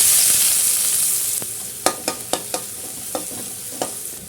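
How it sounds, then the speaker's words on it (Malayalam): Chopped onion sizzles in a little oil for a chicken dish, a loud hiss that gradually settles while a spoon stirs and taps sharply against the pan several times. "ഒരു ചെറിയ സവാള അരിഞ്ഞ് വെച്ചിട്ടുണ്ട് അത് ചേർക്കാം"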